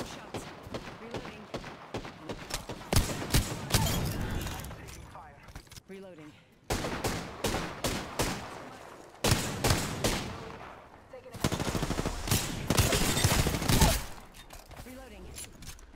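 Gunfire in the Apex Legends video game, repeated bursts of rapid automatic shots in several loud clusters separated by short pauses, with game voice lines mixed in.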